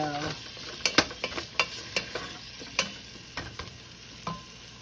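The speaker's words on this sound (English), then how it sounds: "We get our sausage in, and we're going to render out some of that fat." Sausage fries in a hot pot with a little oil, rendering its fat: a steady close sizzle runs throughout, broken by repeated sharp scrapes and clacks of a utensil stirring, with no talking.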